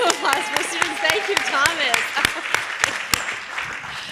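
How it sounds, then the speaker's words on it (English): Sparse, distinct hand claps ring out at a SXSW EDU panel as the room applauds students, a handful of sharp claps spaced irregularly while voices talk over them. "big hand of applause for students."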